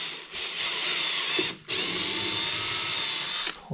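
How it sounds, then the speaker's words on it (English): A power drill bores a pilot hole into the center of a Polaris snowmobile plug harness part, running steady and close with a brief pause near the middle before whirring on. "drill directly the center there"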